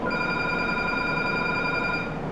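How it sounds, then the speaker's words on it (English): A telephone rings steadily and loudly on its own, a bright electronic ringtone with stacked sustained tones held for the whole stretch with no talk. "I hate when the phone rings."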